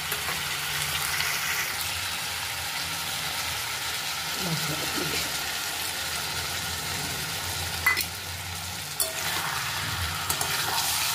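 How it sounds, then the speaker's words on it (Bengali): Food frying and being stirred in a pan over a high flame gives a steady, loud sizzle throughout, with a few clanks of the utensil toward the end. "তো হাই ফ্লেমে কষিয়ে নেব"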